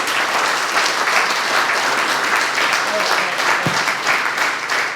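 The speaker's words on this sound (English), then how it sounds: "that deserves a round of applause" A crowd at a police chief's community update bursts into sustained applause, dense overlapping clapping with a faint voice or two mixed in, steady and moderately loud.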